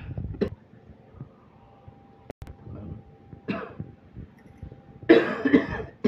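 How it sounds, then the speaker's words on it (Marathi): A person coughs in a few separate bursts: one short cough at the start, another a few seconds later and a harsher, longer fit near the end, all close by in an otherwise quiet room. "औषध घेऊन जास्त खोकलं येलो की काय?"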